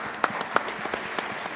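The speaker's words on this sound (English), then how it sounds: "If you can give a round of applause to the panelists," An audience at a summit stage event applauds the panelists, giving a short burst of close, crisp clapping with distinct individual claps.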